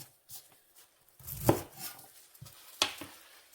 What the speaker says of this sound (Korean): 뿌리 쪽을 잘라주는 거예요